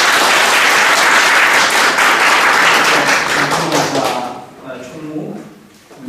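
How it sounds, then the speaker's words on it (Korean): An audience at an association gathering applauds in a sustained burst of dense clapping, loud and steady for about four seconds, then fading away as scattered voices remain. "박수 한번 주시죠."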